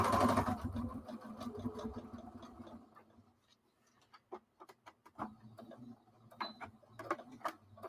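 Sewing machine running quietly at first, then stitching a few short back stitches heard as faint, separate mechanical ticks and clicks.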